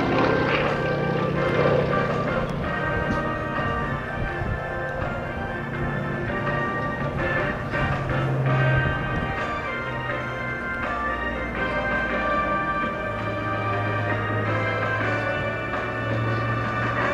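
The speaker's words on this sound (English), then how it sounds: "Josh Wilson high above us in the Yak-55." A Yak-55 propeller plane performs aerobatics at an air force base airshow, its engine a steady droning hum rising and falling in pitch as it maneuvers overhead, heard at a distance over open-air crowd ambience.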